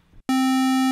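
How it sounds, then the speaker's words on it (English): A synthesizer oscillator sounds a single sustained square-wave note, loud and steady, starting abruptly after a brief quiet gap and holding for the rest of the second. "square wave"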